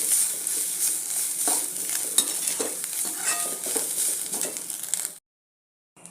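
Grated coconut roasting in a pan, heard as a soft continuous sizzle with scraping strokes of a spatula stirring it round. The sound stops abruptly near the end.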